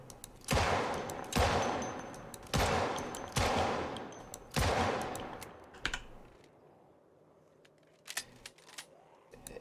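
Video game gunfire in Project Wedsdoid, a mall survival setting: five loud, sharp shots spaced roughly a second apart with reverberant tails, then a quiet stretch and a few faint clicks near the end.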